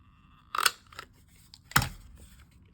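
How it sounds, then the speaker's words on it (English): A circle paper punch snaps through paper during junk journal crafting, giving two sharp, close crunching clicks about a second apart with quiet handling in between. "You can also use it to punch out the notch in this pocket for a clean finish."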